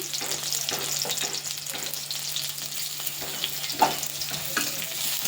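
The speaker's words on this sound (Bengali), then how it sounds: "রসুনটা একটু ভালো করে ভেজে নেব, লাল লাল করে" Chopped garlic frying in mustard oil in a wok already seeded with onion, a continuous crackling sizzle with occasional scrapes and taps of a stirring spoon.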